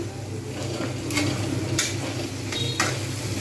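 Chopped banana flower fries with spices in oil in a pan, a low steady sizzle with soft scraping stirs and a few brief clinks of a utensil against the pan.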